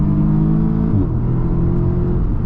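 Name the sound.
Audi S3 engine revving, loud exhaust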